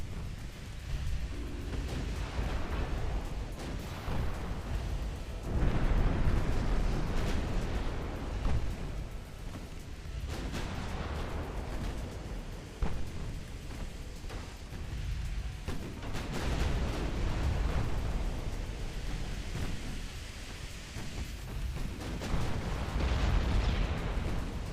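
Warship gunfire and explosions in a naval battle video game, a dense continuous rumble of deep booms and blasts rolling on throughout, loud and unbroken with no talk.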